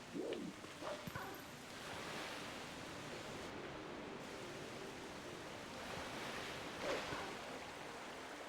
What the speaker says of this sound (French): Avec le brusque retour de l'eau, le courant est devenu très violent